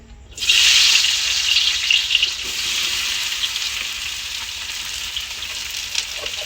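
Onions dropped into hot oil for chicken biryani erupt into a loud, bright sizzle that starts abruptly, then settles into a steady crackling fry that continues alone.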